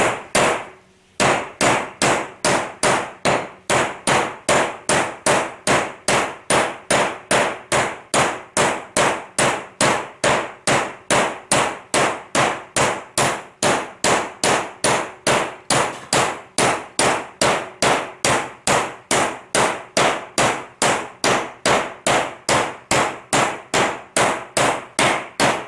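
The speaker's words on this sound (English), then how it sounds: "So just work it in real slow with a brass hammer." Rapid, steady metallic tapping of a brass hammer against a wheel bearing race on a Polaris RZR 900, dozens of evenly spaced ringing clangs continuing nonstop, close and loud, with no talking.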